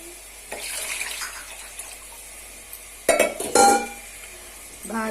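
Water poured into a pot of rice for pulao, a splashing gush amid clinks and knocks of the pot and utensils, the loudest bursts coming in the second half, close and without talk.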